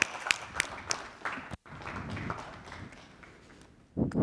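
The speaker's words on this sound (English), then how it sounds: "Round of applause, please." Sparse, quiet applause from a conference audience welcoming speaker Dorine to the stage, a few scattered claps with a brief gap midway before a short louder burst at the end.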